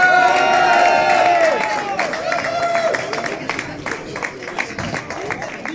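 At a town trail race awards ceremony, a crowd claps and cheers for a youth-category runner. The applause is steady and loud at first, then thins into scattered claps, with a voice audible over the crowd.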